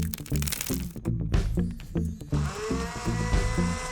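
Sauce of eggs, oil, mustard and soy sauce whipped again after adding salt and pepper, close rapid clattering strokes that give way to a steady whirring mixer drone in the second half.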